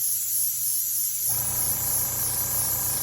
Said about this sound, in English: There goes the compressor.